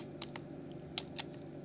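Computer keyboard being typed on, a few soft, sparse keystroke clicks spread over a second and a half against a low steady background hum.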